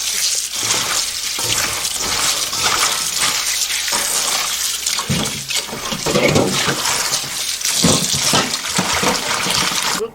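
Salted cucumbers being rinsed in a tub of water for cucumber-cabbage kimchi: steady, loud splashing and running water with sloshing surges throughout, no voices.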